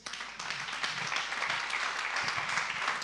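An audience applauds after a sermon at a couples' gala, a dense, sustained wash of many hands clapping that fills the room at steady loudness throughout.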